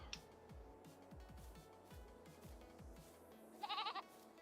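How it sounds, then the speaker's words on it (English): Young goat kids on a farm let out one short, wavering bleat near the end, fairly close and clear over a low rumbling background. "Little baby goats."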